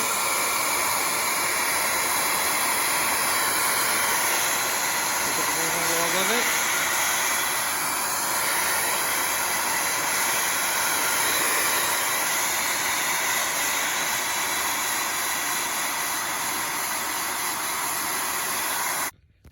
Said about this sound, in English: the ping pong ball would stay above the nozzle where the air was coming out for quite a while before it fell off